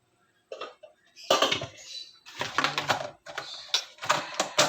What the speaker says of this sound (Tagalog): Kasi medyo inuubo-ubo pa ako